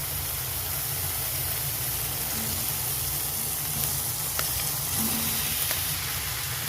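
Fried vegetables tipped into a pan of oil-separated spice masala for soybean panchamasali sobji, giving a steady, even sizzle and hiss that holds throughout with a few faint clinks, no voices.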